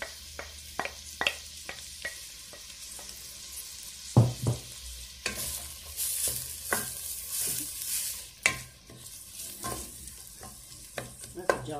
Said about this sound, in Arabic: غادي يقلي شوف البصل هاكي